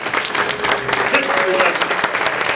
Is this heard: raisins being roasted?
no